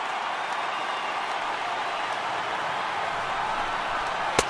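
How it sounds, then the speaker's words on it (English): A crowd of over 39,000 at a Dodgers–Yankees exhibition baseball game cheers and applauds as the game ends, a steady, distant roar of noise with one sharp crack near the finish. "all those fans cheering"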